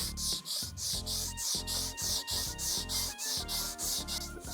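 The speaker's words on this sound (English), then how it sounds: "So I got 400 grit on a flat block." Sanding a Rubio Monocoat wood finish with 400 grit paper on a flat block, a close, loud rhythmic rasp of repeated back-and-forth strokes, about three per second.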